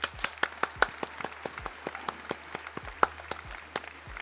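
A steady run of sharp hand claps, close and fairly rhythmic, with a small scattered applause feel and no talking.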